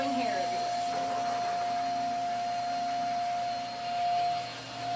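A small dog grooming vacuum runs at close range, blowing hair with a steady airy whoosh and a fixed whine, briefly dipping and swelling near the end.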